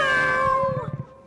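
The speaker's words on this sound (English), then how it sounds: "the lion lets out a tiny meow" A cartoon lion gives a tiny, high, drawn-out meow in place of a roar, a single close, clear wavering cry that trails off into soft breathy huffs.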